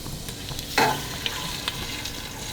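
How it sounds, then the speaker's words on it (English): Cold cream is poured into a hot pan, setting off a sudden burst of sizzling that settles into a steady, close frying hiss with a few faint clicks and stirring sounds, and no talking. "Okay, so we're going to put in our cup of cream,"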